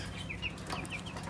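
Backyard chickens give faint, short clucks and chirps, a few quick calls spaced apart, over a low background murmur and a soft rustle of flapping.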